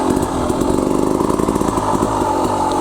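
An enduro motorcycle revs loudly and steadily close to the microphone while being ridden and turned, its engine note rising and falling with small throttle changes, and no voices are heard.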